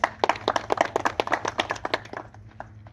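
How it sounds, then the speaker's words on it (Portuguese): Church congregation clapping at a Portuguese-language service, a burst of sharp, close hand claps in quick irregular succession that thins out and fades over the last second. "Palmas para Jesus"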